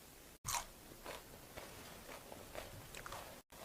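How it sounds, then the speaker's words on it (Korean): Crisp, close bites and crunches of a vinegar-seasoned Korean cabbage salad dressed with gochujang, coming in a quiet, irregular series of short crackly chews without talk. "이 양배추가 이렇게 초무침 해놔놓으면 수분이 쉽게 안 빠지면서 되게 아삭거려요."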